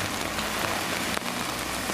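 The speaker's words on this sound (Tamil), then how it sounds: "இடியுடன் கனமழை பெய்தது" Heavy rain with thunder in Tamil Nadu pours down steadily, a dense, loud hiss of drops hitting surfaces throughout, with no voices.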